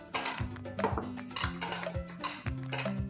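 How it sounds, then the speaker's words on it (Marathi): Ghee and sugar being whisked for an eggless veg cake make rhythmic metallic scraping and clinking against a bowl, several quick strokes in bursts, close and moderately loud. "तूप आणि साखर हे चांगलं फेटून घ्यायचे."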